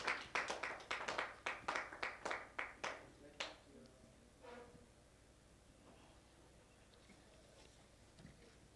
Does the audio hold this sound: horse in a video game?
no